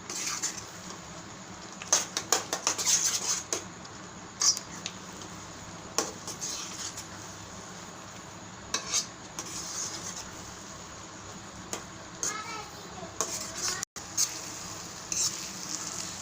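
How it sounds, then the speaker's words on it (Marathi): A spoon scrapes and stirs wheat flour halwa with ghee in a pan. Soft sizzling runs throughout, broken by repeated close scraping and knocking strokes against the pan, with no talk. "त्याला छान व्यवस्थित फेटत राहायचं"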